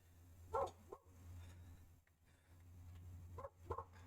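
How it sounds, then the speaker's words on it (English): A dog barking excitedly outdoors, a few short distant barks at the start and again near the end over a low steady hum. "Dog's excited outside, talking to the neighbor."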